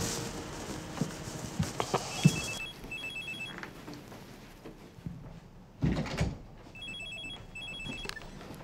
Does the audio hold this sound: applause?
no